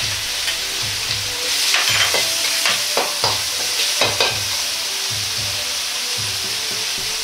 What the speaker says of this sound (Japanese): 生姜スライスを入れて炒めます。